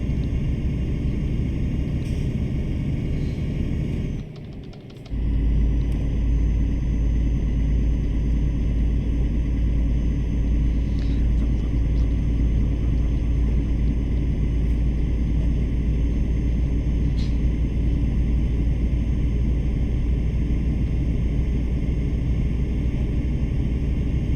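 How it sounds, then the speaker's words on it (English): A truck engine in Euro Truck Simulator 2 rumbles low and steady throughout, loud and continuous, with one brief dip in the drone. "I'm just gonna enjoy the sound of the truck."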